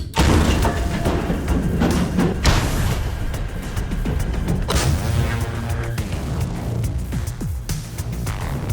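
Repeated heavy booms and thuds of artillery fire near Chasiv Yar roll out over several seconds, loud and close, with rumbling echoes between the blasts.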